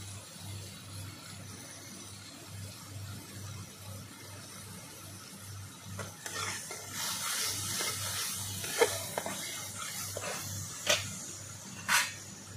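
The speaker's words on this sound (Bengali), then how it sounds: "ভালো করে 2 থেকে 3 মিনিট আরও মশলাটাকে ভালো করে কষিয়ে নেব" Spice paste for a yogurt chicken curry being stir-fried in a pan, with a low steady sizzle and a rising run of scraping and clinking stirring strokes in the later half, with a few sharp utensil knocks near the end.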